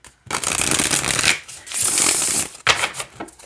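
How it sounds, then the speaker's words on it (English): Tarot cards are shuffled close up in several riffling bursts, a loud papery flutter with short pauses between passes. "it shuffles really nice let me show you that real fast"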